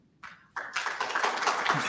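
An audience claps for a short-film director at a panel discussion, the applause starting abruptly and building into a steady, fairly loud patter of many hands.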